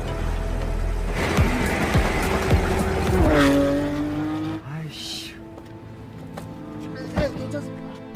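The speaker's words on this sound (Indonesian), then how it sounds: "di tengah jalan mobil mereka ditabrak mobil bodyguard Kim" A film car chase with tires squealing, engines revving and a heavy impact as one car is rammed by another, loud and close, followed by a quieter stretch with a later thud.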